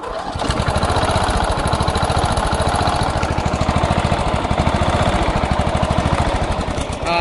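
A small gasoline engine on an offroad lawnmower runs steadily up close, with a fast, even chugging pulse that carries loud and continuous throughout, with no talking.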